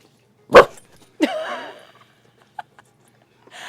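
A dog wearing a costume gives a single sharp bark, followed by a brief whine and a few faint small sounds in a quiet setting.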